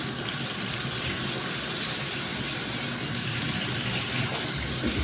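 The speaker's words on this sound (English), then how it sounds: "I am going to plug this bathtub and turn the water on." Water gushes steadily from a bathtub faucet into a plugged tub, a continuous broadband rush that stays loud and even throughout with no talking.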